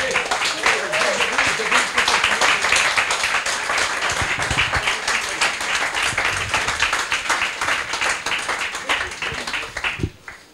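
A church congregation applauding, dense sustained clapping filling the space from start to end with voices mixed in, fading near the end.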